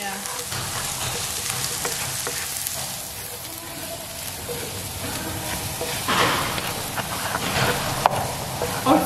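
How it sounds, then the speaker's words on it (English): Onions sizzle and crackle in hot oil in a home kitchen, a steady dense frying hiss that swells near the end, with occasional stirring and a sharp clink. "Now I'm going to add the onions."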